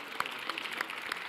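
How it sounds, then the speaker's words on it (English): Audience applause at an MLK celebration event, a brief burst of dense, steady clapping from a crowd, heard at moderate distance. "give her a round of applause"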